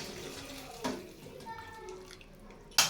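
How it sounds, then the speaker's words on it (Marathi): Hot water poured into a pot of cooked chicken curry with the gas turned off gives a soft, fairly faint splashing pour, followed by a brief sharp clatter at the end. "ह्याच्यात गरम पाणी घालूया"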